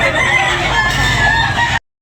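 A rooster crows loudly and close at a chicken sale in Tabunok, one long drawn-out cock-a-doodle-doo with clucking fowl around it, cutting off abruptly at the end.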